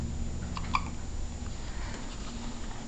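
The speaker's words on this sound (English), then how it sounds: "They both have hiccups at the same time." A small child hiccups once, a brief sharp burst standing out over steady low background hum, with no talking.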